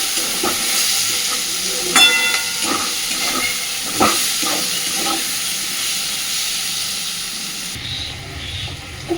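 Fish fat melts in a pan over a very low gas flame while being stirred, giving a soft, steady sizzling hiss punctuated by occasional spatula scrapes and taps, with no voices.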